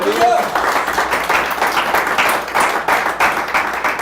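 A church congregation claps in praise during a Spanish-language service on receiving the Holy Spirit, a steady, fairly loud patter of hands lasting a few seconds, with voices mixed in among the clapping.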